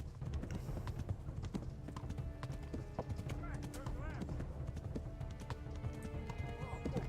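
Horse hooves clip-clopping at a steady trot in Kingdom Come: Deliverance, a rapid rhythmic clatter under game music and occasional talk.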